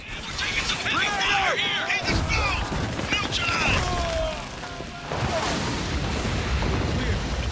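Turret gunfire in the desert combat of Spec Ops: The Line, a steady barrage of shots and impacts with explosive crashes, loud and continuous, with whistling and shouting voices mixed in.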